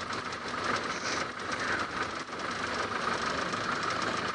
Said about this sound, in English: Start the engine, let it run a little bit.